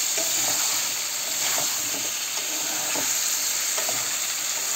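Chicken and potatoes sauté in a pan while being stirred, a steady close-up sizzle with scraping strokes recurring about every second, with no voices.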